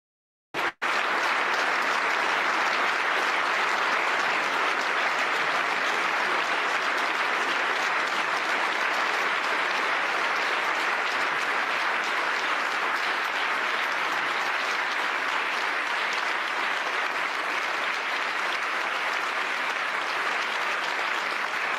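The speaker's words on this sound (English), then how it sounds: "they didn't give this kind of applause to J.D. Vance, but they give it to this" A long, sustained ovation for Zelensky from a large audience, loud continuous clapping that starts abruptly and holds steady throughout without speech.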